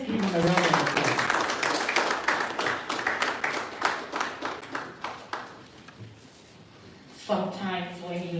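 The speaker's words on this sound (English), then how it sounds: "Please let's give him a round of applause." Applause from the audience at the commissioning of a university incubation and co-working hub, loud and dense at first, thinning into scattered claps and fading out, then voices take over near the end.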